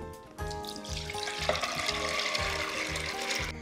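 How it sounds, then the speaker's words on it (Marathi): Soaked chana dal and its soaking water poured into a pressure cooker in one continuous splashing pour, close up, over a soft rhythmic thump in the background. "कुकरमध्ये ही भिजलेली डाळ घालून घ्यायची, त्यातल्या पाण्यासकटच घालून घ्यायची"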